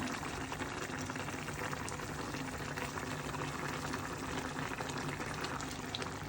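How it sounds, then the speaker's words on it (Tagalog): Bottle gourd simmers in a covered pot, a steady close bubbling and hiss that stays even and unbroken throughout. "kumukulo ng ating upo"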